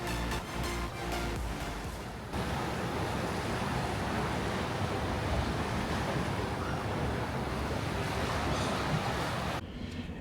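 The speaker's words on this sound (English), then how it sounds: "Here you can enjoy some great views and sounds of the ocean." Ocean waves rush and wash continuously from a cruise ship balcony on the Carnival Vista, a dense, broad roar mixed with buffeting wind, loud and steady with no pause.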